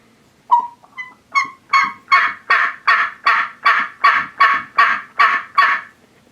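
A Primos turkey call, blown by mouth, imitates turkey gobbling with about a dozen loud, close, evenly spaced honking yelps that start hesitantly and then settle into a steady rhythm.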